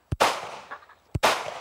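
Two sharp pistol shots, roughly a second apart, fired one-handed during outdoor training with a K9 police dog, each a loud crack with a short echoing tail.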